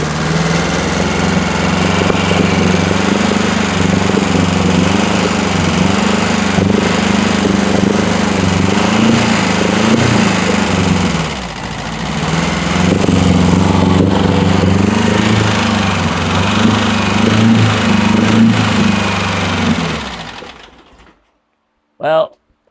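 An old bus engine running on fuel poured straight into the carburetor keeps up a loud, steady, throbbing idle for about twenty seconds before cutting out abruptly, followed by a brief knock.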